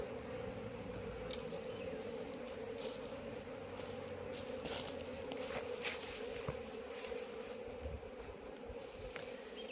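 Tuduve honey bees buzz around a nest inside a snake anthill, a steady close droning hum with a few faint rustles and taps over it.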